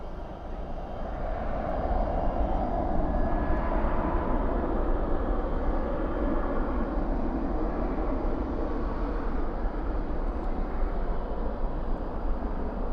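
A 31-year-old Boeing 757 jet airliner at DFW airport at night gives a steady, broad roar of jet engine noise that holds loud and even throughout, with no talk over it.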